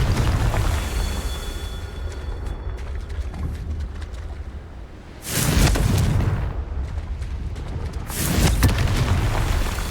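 Two loud booming blasts from the Confringo spell in Hogwarts Legacy, each a sudden broadband burst with a rumbling tail, a few seconds apart over a steady game background.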